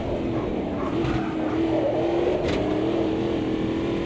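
A great big 6.8 litre race car engine in a racing video game holds a steady droning tone that rises gently in pitch as it rumbles over cobbles on a circuit.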